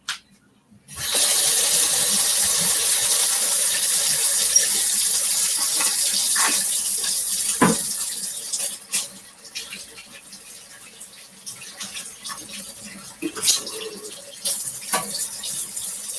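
Kitchen sink faucet turned on after a short pause, water streaming steadily and loudly, then quieter splashing with a few light knocks against the basin.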